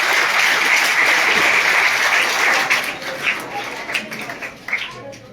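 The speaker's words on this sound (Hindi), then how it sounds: "तालियों की गड़गड़ाहट बंद नहीं होनी चाहिए।" Audience applause at a village government senior secondary school award ceremony, a loud sustained crowd clapping that thins in the second half into scattered individual claps.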